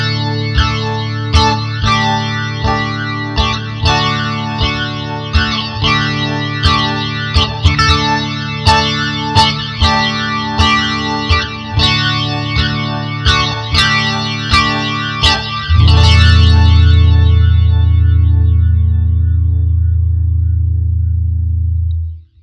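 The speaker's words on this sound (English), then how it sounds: "a flanger creates a kind of spacey sound for your guitar" An electric guitar played through a flanger pedal, a run of picked notes with a sweeping, whooshing shimmer, ending on a loud sustained chord that rings out and fades.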